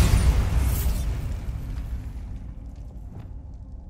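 A Bombarda spell blast in Hogwarts Legacy goes off as a loud, close booming explosion, its rumble fading out over a few seconds with small crackles of debris.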